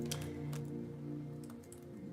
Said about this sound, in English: let me type in what this is talking about